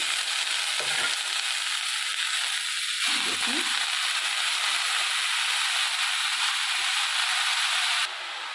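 Washed fenugreek greens hit a hot pan and sizzle in a loud, steady hiss with a few soft thuds of stirring, before the sizzle drops off abruptly at the end.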